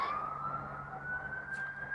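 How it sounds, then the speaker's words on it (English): Ambulance siren wailing steadily with a slowly rising tone, moderately loud over a low background rumble, with no talking. "Ambulance. Obviously."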